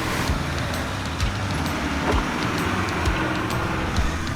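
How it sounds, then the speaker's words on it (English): An Iveco 4x4 on 37-inch tyres crawls up a rock climb, giving a steady low engine drone with a few faint clunks and scrapes over a constant rumble. "Simon had to pick a good line of his vehicle and just crawled up"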